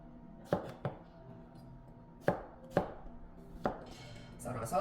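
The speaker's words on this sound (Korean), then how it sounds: "그 다음 호박은 반달 썰기" A kitchen knife chops a zucchini into half-moon slices on a cutting board for a Korean fish stew, giving five or six crisp close thuds spaced irregularly, in pairs and singles, over a quiet room.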